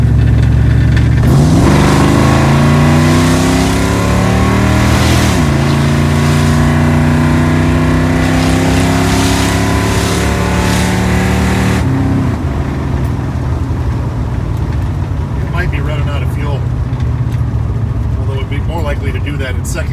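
Car engine fed by a Holley carburetor with vacuum secondaries revving hard through the gears, loud rising and falling pitch sweeps with a rough, breaking-up edge, then settling to a burbling idle.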